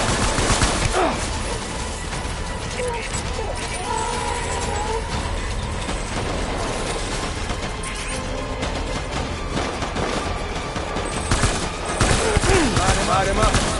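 A sustained volley of gunfire rattles on at moderate loudness, with dense overlapping shots and a heavier burst near the end, mixed with voices and background rumble.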